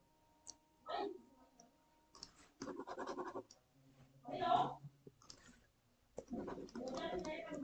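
Pen scratching across paper while working a physics exercise on measurement, in several short scribbling strokes close to the microphone, interleaved with someone speaking.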